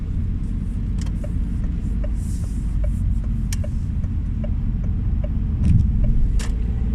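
Citroën C3 driving through a roundabout, a steady low engine and road rumble from inside the car, with faint small clicks ticking along beneath it.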